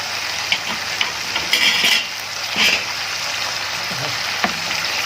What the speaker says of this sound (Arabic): هنقعد بقى نقلب معاكم كده شويه، نقلبها شويه كده